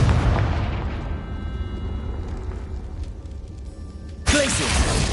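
Confringo blasting spell going off in the Hogwarts Legacy video game: a loud booming blast at the start that rumbles and fades, then a second sharp burst near the end, set over game ambience.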